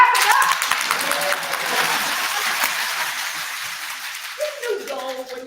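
Audience applause for a networking event speaker, a dense burst of clapping that is loud at first and gradually thins out, with voices rising near the end.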